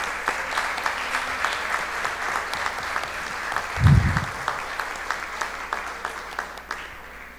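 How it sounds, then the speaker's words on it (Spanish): An audience at a school reading activity awards ceremony claps steadily for the winners, a sustained, even patter of many hands with a brief low thump partway through. "Un fuerte aplauso para los ganadores."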